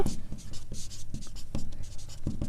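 Pen scratching on paper while a math solution is written out, quick close strokes and taps in an irregular rhythm, with no talking.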